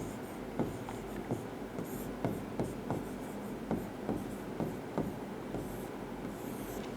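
A teacher writes out a Hindi grammar example by hand, producing a steady series of short, crisp scratching strokes with brief pauses between them, close and fairly quiet over a low background hum, with no talking.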